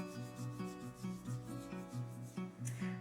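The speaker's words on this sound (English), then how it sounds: "And then we are rubbing over the toes." Hands rubbing briskly back and forth over a bare foot during a massage, a steady rhythmic swishing friction repeating several times, close and clear with no talking.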